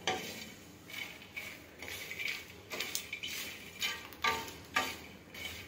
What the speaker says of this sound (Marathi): आता याच्यामध्ये जाणार आता हे मखाना, आता हा मिक्स करायचा छान